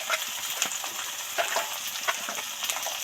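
Turmeric and chilli powder added to fried potato, onion and tomato for a prawn curry, a bright, loud, close sizzle with crackling bursts and no talk.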